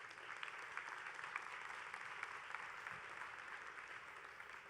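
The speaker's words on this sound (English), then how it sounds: "But I'd like to please give a round of applause to the judges." Sustained audience applause for the judges at a fashion runway design competition, an even, steady rush of many hands from a sizable crowd, heard quite faintly and at a distance.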